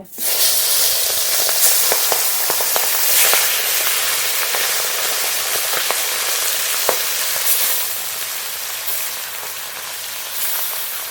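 Pieces of rohu fish fry in hot oil with a loud, dense, continuous sizzle and crackle, close up, with occasional sharper pops and spatters throughout.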